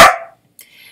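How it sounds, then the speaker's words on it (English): A dog gives a single sharp, loud bark up close, followed by a brief quiet gap and faint background noise. "Why are you over there barking?"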